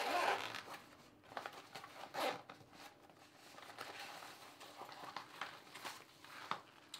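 A zipper opens the top pocket of a GoPro crossbody sling bag in several short ragged pulls over a few seconds, heard close up amid faint handling rustles.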